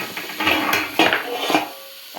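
A metal lid clatters onto a cooking pot with a few short clinks and scrapes, loud and close, while something is cooked with prawns in a home kitchen.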